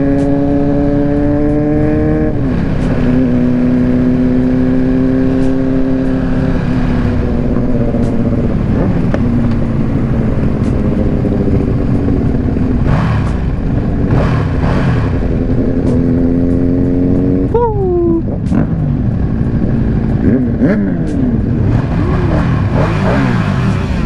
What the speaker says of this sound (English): this bike is loud